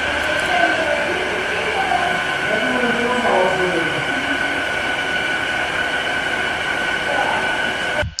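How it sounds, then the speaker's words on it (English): Busy warehouse noise heard through a VT W300 noise-cancelling headset microphone: a steady, loud rumbling drone with faint shifting squeals and tones, continuous throughout with no break. "This is how it sounds in a busy environment like this."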